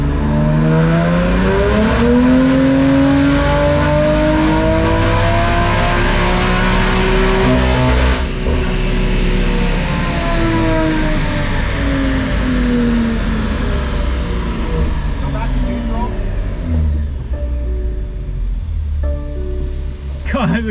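BMW S55 engine fitted with big Mosselman turbos, run hard on a dyno for about twenty seconds: a loud, steady roar with rising and falling harmonics as revs climb, then easing off near the end.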